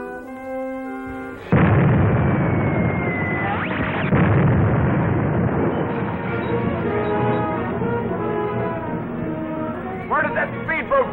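A naval deck gun fires on a speedboat in a 1945 serial, a loud sudden boom followed by roaring, rumbling blasts and crashing under a dramatic orchestral score.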